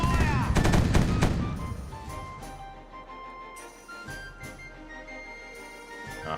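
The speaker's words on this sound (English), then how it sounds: "I'm finally in range to shoot at the frigate." Naval cannon fire in the pirate sailing game Caribbean Legend as a ship shoots at a frigate: a loud cluster of booming shots up front, then fading rumble and scattered fainter reports.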